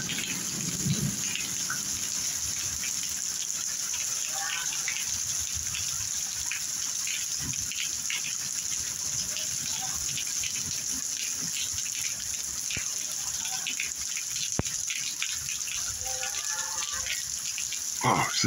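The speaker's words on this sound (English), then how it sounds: "This is a bad storm tonight" Steady rain pours in a constant wash of noise, with occasional drips and gusts; no talking.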